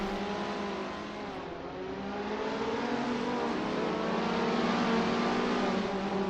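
A KTM X-Bow racing car engine in the Assetto Corsa racing game roars steadily at high revs at Vallelunga, with smooth rising and falling pitch as it accelerates and shifts, loud and continuous without talk.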